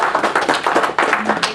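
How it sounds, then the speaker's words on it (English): An audience claps together at a conference session, a dense steady round of applause that fills the whole moment, fairly loud and close, with no voices over it. "How about a round of applause?"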